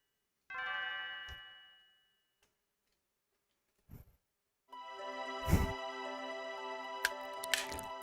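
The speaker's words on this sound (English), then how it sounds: "I'd forgotten how beautiful Lean's bell could sound." Leene's bell in the video game Chrono Trigger rings out as bright, sustained chiming tones, with a short tinkling chime first, a pause, then a longer resonant peal carrying several sharp accents.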